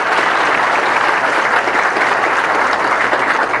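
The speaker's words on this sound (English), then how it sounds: "Give him a nice round of applause" Steady, dense applause from an audience at a high school senior awards ceremony, loud and continuous throughout with no break or talk over it.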